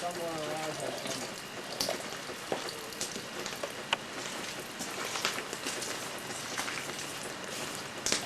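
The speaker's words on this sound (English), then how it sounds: "It's raining out there." Rain falls steadily outdoors at a forest blockade site, a soft continuous patter with occasional louder drips, fairly faint and close.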